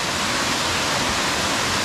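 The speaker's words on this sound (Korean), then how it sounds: "이렇게 부딪혀서 폭포가 내려오고 있죠" Water of a Seorak mountain waterfall tumbles over rocks in a valley gorge, a steady full roar that fills the clip without pause, close and loud, with no voices.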